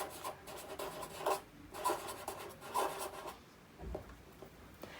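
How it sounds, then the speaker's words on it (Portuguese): Teacher writing on a classroom board during a geometry lesson, rhythmic scratching strokes in a few short bursts, close and fairly quiet, with no talking. "A tia vai até escrever aqui, ó."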